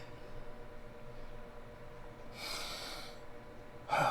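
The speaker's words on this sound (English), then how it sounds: "Sorry about the coughing, it just can't be helped." Coughing in a kitchen beside a running Ninja Foodi XL Pro air oven, heard as a short burst of breathy coughs followed by a sharper, louder cough at the end over a steady low fan hum.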